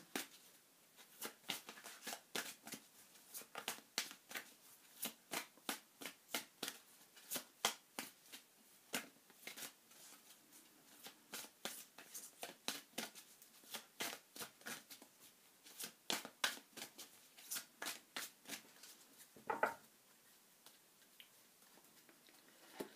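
Romance Angels oracle cards are shuffled by hand in a quiet room, giving a long run of quick, crisp riffling slaps in an irregular rhythm, close and fairly soft, with no voices.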